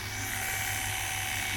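Electric hair clippers buzz steadily and close by, cutting a tapered haircut with the clipper-over-comb technique in one continuous drone with no talking.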